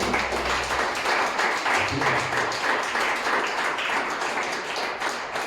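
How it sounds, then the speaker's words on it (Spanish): A church congregation claps at a service, scattered rhythmic applause of moderate volume that swells and continues unevenly, with a few brief low voices mixed in. "Denle un aplauso al Señor."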